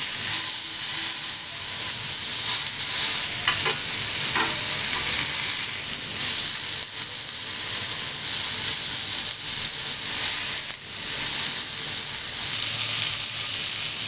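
Sardines grilling in a pan on a home stove, a constant close crackling sizzle that runs steadily throughout, with a couple of brief utensil taps.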